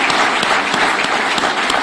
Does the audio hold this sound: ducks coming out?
no